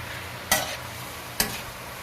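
Squid cooks adobo-style in vinegar in a pan, with a steady low sizzle broken by two sharp scraping stirs of a utensil against the pan, close by.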